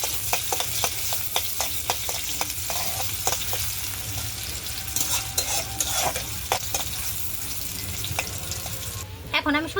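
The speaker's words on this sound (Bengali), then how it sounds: "এখন আমি নাড়াচাড়া দিয়ে দিলাম।" Onions fry in oil for a dried fish curry, crackling and hissing close by while a spoon stirs and scrapes in an irregular rhythm, with a brief clatter near the end.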